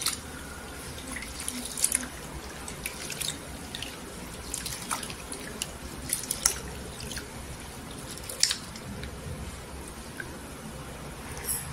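Soaked lentils get rinsed in water in a home kitchen, with scattered drips and splashes against a steady trickling background, close by and without voices.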